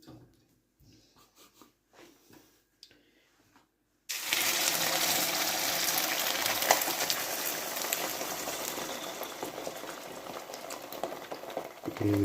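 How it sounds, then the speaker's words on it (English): After a few quiet seconds of light clatter, a loud, steady crackling sizzle of food frying in a hot pan takes over and continues. "The sizzle."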